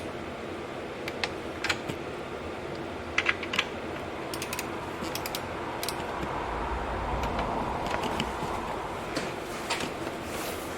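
A torque wrench tightens valve cover studs into aluminum threads on the 5.3 LS engine of a 2007 Avalanche. Faint, scattered sharp clicks come in small clusters over a low background hum, with no talking.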